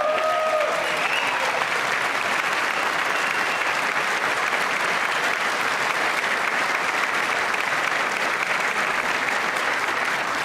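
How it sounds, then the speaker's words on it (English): Legislators in a chamber break into loud, sustained applause, a dense, even wash of clapping that carries on without a pause for the whole stretch. "I wasn't sure if anybody even on this side was going to applaud for that."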